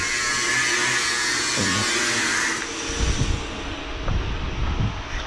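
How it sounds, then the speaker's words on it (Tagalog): A steady high-pitched whine of a power grinder runs for a few seconds, then cuts off, leaving low thumps and rumbling. "patapusin muna natin yung nagka-grinder"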